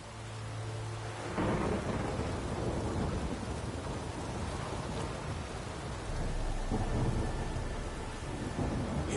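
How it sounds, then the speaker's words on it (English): Heavy rain pours steadily through a thunderstorm in a PS4 video game, with deep rolling thunder rumbling loud and close throughout and no voices. "A storm, damn it."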